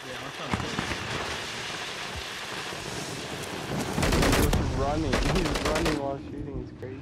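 Gunfire in Call of Duty Modern Warfare III as a player runs while shooting, with rapid automatic bursts rising to a loud, dense volley midway, then trailing off, over continuous game background noise and some speech.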